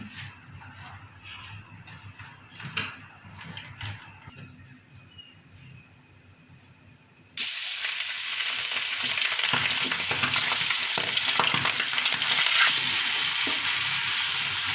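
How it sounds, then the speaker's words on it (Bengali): Rohu fish frying in hot oil in a Bangladeshi home kitchen: quieter clinks and stirring at first, then a sudden loud, steady sizzle that fills the second half without talk. "মাছ একটি ভাজা হয়ে গেছে, আরেকটি আমি উঠে দিচ্ছি"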